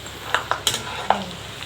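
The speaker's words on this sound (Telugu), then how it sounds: "ఇది టప్ టప్ అని చిన్న సౌండ్ వస్తుంది కదా" A few sharp pops crackle as corn kernels pop in hot oil, spaced irregularly over a soft sizzle, close by.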